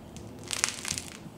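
Crust of a first homemade sourdough loaf crunches as it is squeezed, a short burst of crisp crackling snaps, close and fairly quiet, with no talking over it.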